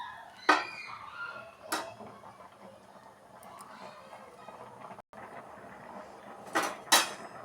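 Seviyan payasam stirred in a pot over low heat, giving a few soft metal scrapes and clinks of a spoon against the pot with quiet gaps between them, close and fairly faint, with no talking.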